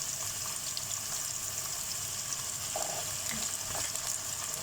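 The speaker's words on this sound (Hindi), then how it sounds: "तो ऑनियन को हम फ्राई करते हैं" Halved onions sizzle steadily in a pan, browning for mutton nihari, with a constant bright hiss and a few soft clinks and stirring sounds; no one speaks.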